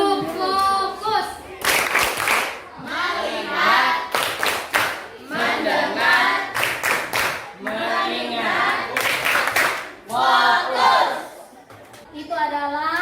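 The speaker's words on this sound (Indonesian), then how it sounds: "Kita tepuk fokus satu kali lagi. Diam. Tepuk fokus." Schoolchildren in a classroom perform a rhythmic clapping routine, sharp bursts of claps in short patterned sets alternating with a teacher's voice and children chanting along.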